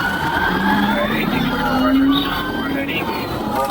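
A police car siren wails, rising and falling continuously amid road noise during a high-speed pursuit, fairly loud and close, with no speech.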